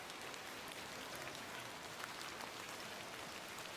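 Steady rain falls in The Excavation of Hob's Barrow, a dense, even hiss of drops on surfaces that keeps going without a break, with no voices over it.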